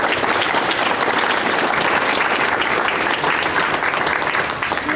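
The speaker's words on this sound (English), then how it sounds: "I want to give everyone a round of applause." Applause from participants at a city neighbourhood engagement event, a loud, dense and continuous wash of clapping from a gathered group, sustained evenly throughout without any speech.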